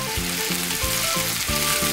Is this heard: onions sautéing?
yes